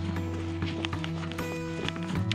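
An Icelandic horse's hooves clop in an irregular rhythm on a Colorado trail, close and fairly loud over a steady low rumble and hum.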